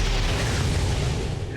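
A heavy burst of return fire in the video game XCOM 2 lands as a dense, booming blast that holds for a second and a half before tapering off, with no voices over it.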